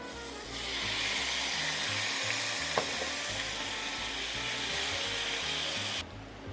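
Fresh tomatoes hit a hot pan for spaghetti sauce and start sizzling, a steady broad frying hiss that rises after a moment and runs evenly, with a faint knock partway through before it cuts off.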